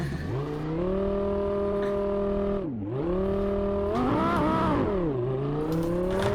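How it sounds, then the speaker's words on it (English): A race car engine in the video game Assetto Corsa revs loudly and steadily, its pitch climbing, dipping sharply once, then rising again, with a second engine's whine layered in toward the end. "Your car's way so loud."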